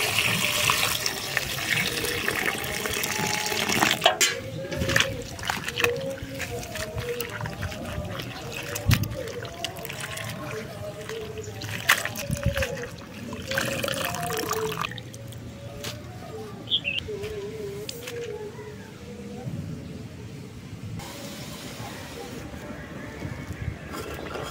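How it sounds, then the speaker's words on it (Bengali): Chopped drumstick (sajne) greens are washed in water in a rural kitchen, with steady splashing, trickling and running water throughout and occasional louder sloshes. "এবার এগুলো জল দিয়ে ধুয়ে নেব"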